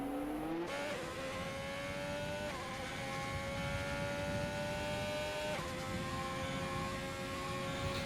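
Onboard race car engine from a racing video game at the Abu Dhabi circuit, a loud sustained high-pitched whine that climbs steadily through the gears with short dips at each upshift, running continuously with no talk over it.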